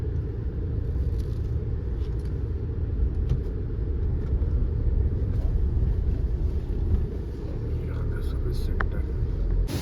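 A Tata Safari SUV driven into a service centre: a steady low engine and road rumble from inside the car that continues throughout at an even level, with occasional faint clicks and quiet background noise.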